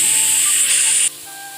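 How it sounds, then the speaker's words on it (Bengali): Loud, steady sizzle of black cumin seeds hitting hot oil that drops abruptly to a quieter hiss partway through. "কালো জিরে ফোড়ন দিচ্ছি"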